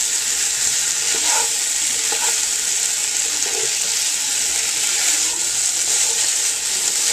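Cajun chicken pasta meat being stirred in a hot pan, a steady loud sizzle with scraping stir strokes running throughout, no voices.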